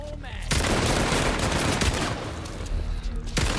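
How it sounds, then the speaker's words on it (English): Sustained gunfire from the zombie survival video game No More Room in Hell 2, a dense, loud volley of rapid shots running almost unbroken for several seconds, with faint player voices in the background. "they're shooting without any target"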